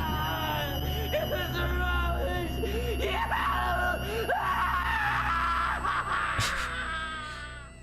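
A person screams while acting insane, a long, wavering, shrill voice that rises and falls in pitch over a steady background hum and fades toward the end.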